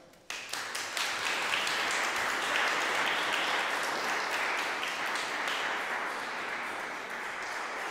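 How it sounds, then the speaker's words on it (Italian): An audience at a concert in Sansepolcro, Italy, closing an opera singing masterclass, breaks into applause, many hands clapping densely and steadily, close and fairly loud, fading slightly toward the end. "li accogliamo con un applauso e cominciamo il nostro concerto"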